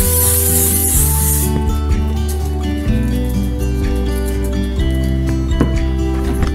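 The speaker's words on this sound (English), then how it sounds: "lightly mist the wrappers with cooking spray" A short, steady hiss of cooking spray lightly misting dessert wrappers at the start, then it stops, leaving music playing in the background.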